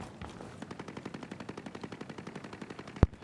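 Distant automatic gunfire from the Ghost Recon: Breakpoint video game rattles in a fast, steady burst of evenly spaced shots, moderately faint, ending with one sharp, much louder crack near the close.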